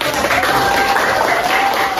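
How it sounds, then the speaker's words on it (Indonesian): An audience at a teacher competition in Surakarta claps together, a brief dense burst of applause with a faint tonal hum running through it. "Tepuk tangan dong."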